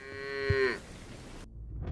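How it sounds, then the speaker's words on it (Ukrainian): A single cow lets out a loud, drawn-out moo near the government quarter, followed by a moment of faint outdoor rumble. "Корови нікому не потрібні."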